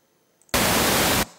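White noise generated in audio production software, a loud, flat hiss that starts abruptly, holds steady for under a second, then cuts off, with near silence around it.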